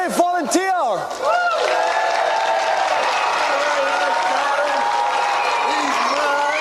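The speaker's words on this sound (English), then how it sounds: "Round of applause for our brave volunteer." Studio audience of a TV gaming show applauding a volunteer, a steady wash of clapping and some cheering that takes over after a brief burst of whooping voices, running loud and continuous to the end.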